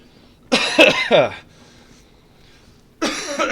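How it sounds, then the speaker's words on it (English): A man coughs twice in close, harsh bursts separated by a quiet pause, in a quiet indoor setting. "I will be coughing quite a lot today as well"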